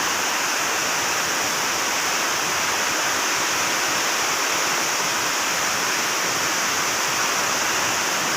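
Heavy rainwater pours down in a cloudburst-like downpour with wind, a loud, unbroken rush, a dense roar with no pauses.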